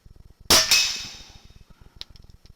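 A single sharp rifle shot cracks loudly and is followed by a second close report. Both ring out with a metallic clang from a steel target, over a steady rhythmic ticking hum, with faint later ticks at the target.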